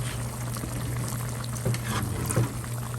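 Vinegar goes into a pot of cooking pork adobo, which bubbles and simmers softly and steadily, with a faint pouring splash and a low background hum.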